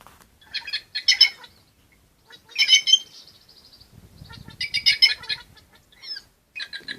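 Wild birds call near an apiary in a rural setting, with short bursts of bright chirps and tweets in separate clusters, clear and fairly close against quiet, along with a faint low rumble midway.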